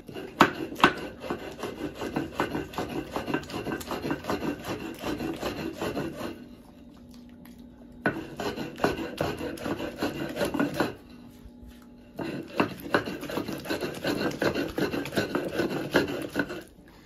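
Salsa verde ingredients are ground by hand on a stone metate, a close, rhythmic rasping scrape of stone on stone in steady strokes, pausing twice briefly before resuming.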